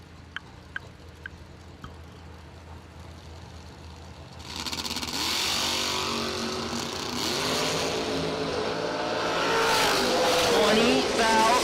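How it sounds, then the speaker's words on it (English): A 2000 Camaro drag racing car launches down the strip, quiet at first with faint clicks, then a loud sustained engine roar builds and climbs through the run, with an announcer talking over it. "Gonna go to the hitter of Sean Pitts in the 2000 Camaro"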